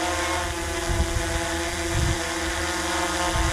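A DJI Mavic 2 Zoom drone flying nearby, giving a steady, loud buzzing propeller whine with layered tones over a rumbling, wind-buffeted low end, no talking.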